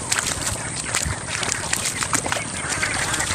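A flock of two-month-old Itik Pinas ducks being herded, with busy close quacking and shuffling over a constant outdoor background, and a voice talking.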